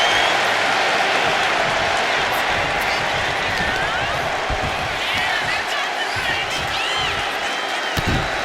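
Broad, constant crowd roar from a WWE 2K25 wrestling match, with a few dull thuds of punches and elbows landing and a commentator's voice running over the noise.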